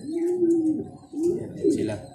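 Pigeons coo in soft, low rolling calls, several phrases in a row, close by at a backyard loft in Rizal, with faint background sounds between the coos.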